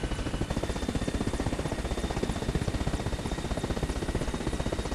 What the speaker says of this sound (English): I'm going to give this helicopter a try.